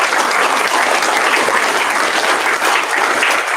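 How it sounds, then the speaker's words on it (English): An audience at a 2021 awards ceremony claps steadily, a dense, continuous wash of applause that stays loud and even throughout. "And she deserves a round of applause,"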